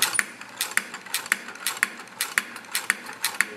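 A Casagrande liquid limit device cranked steadily at two revolutions per second, its cup dropping in a regular series of about seven sharp mechanical clacks, roughly two per second, with a faint gear whir between them and no talk.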